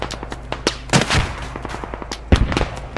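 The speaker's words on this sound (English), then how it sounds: "Oh, you're getting shot at." Gunfire in the military shooter Squad, scattered single shots and short bursts with a couple of heavier booms, mixed over a steady low vehicle rumble and fairly loud.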